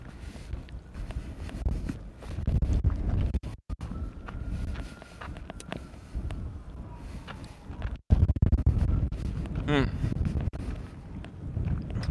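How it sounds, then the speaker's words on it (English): Strong outdoor wind buffets a windscreen-covered headset microphone, a low rumbling roar that surges and drops in gusts, with someone talking through it and a couple of brief dropouts. "I'll give you an idea of how windy it is"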